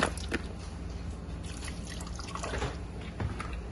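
Water drips and trickles steadily from washed oxtail meat as it drains before stewing, a soft continuous liquid patter close by with no talk.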